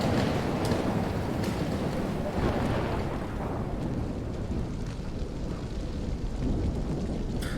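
A roaring thunderstorm in the Life is Strange video game, with a dense, loud rumble of wind and heavy rain rolling continuously and low thunder swelling underneath, no voices heard.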